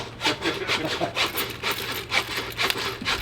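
A saw cutting through the pelvis bone of a beef cow during a homestead butchering, close, loud back-and-forth rasping strokes in an even rhythm, about two strokes per second.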